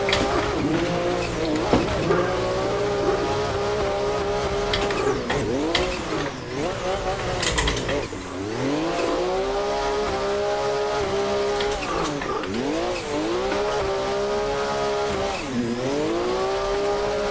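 A Toyota Supra engine drifting in a racing sim game howls loud and continuous, its revs rising and dipping in repeated swells with tire squeal woven through.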